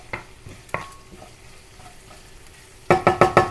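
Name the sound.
curry leaves, chili, garlic and ginger frying in oil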